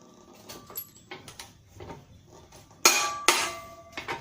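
A JLD impact wrench set to 330 Nm tightens two bolts, giving two loud, sharp rattling bursts near the end after quieter clicks and handling noises.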